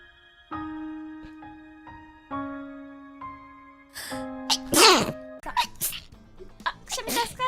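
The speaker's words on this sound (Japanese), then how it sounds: "くしゃみ助かる" A young woman's sneezes during a livestream, several short bursts spread over the clip, the later ones louder and clustered with breathy sniffles, close to the mic over a faint background tone.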